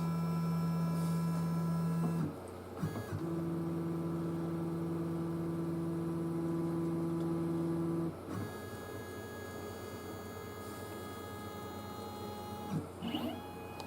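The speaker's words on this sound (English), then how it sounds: "Now it's going to measure the length of that bit." A CNC router runs its bit-length measuring routine during a bass guitar wine table build, a steady motor hum with two long tonal whines, brief pauses, and a short clatter near the end, with no talking.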